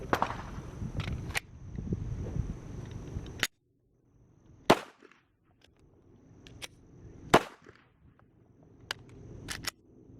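A SAR-9 pistol fired at a target on a range during a concealed-carry class, sharp single shots spaced out irregularly, some loud and close, with quiet gaps and faint handling noise between them.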